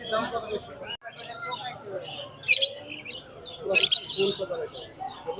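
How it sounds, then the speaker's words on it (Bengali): Short bursts of high bird chirping ring out a couple of times amid people talking nearby in the noisy, busy Mirpur-1 bird and pigeon market. "দর্শক দেখেন একবার বেশ চমৎকার কিছু পাখি নিয়ে আসছে মিরপুরাটে"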